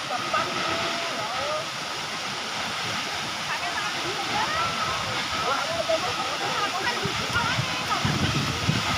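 Steady roar of the Coban Rondo waterfall in Batu, Malang, a continuous broadband rush of falling water heard from nearby, with faint voices murmuring underneath.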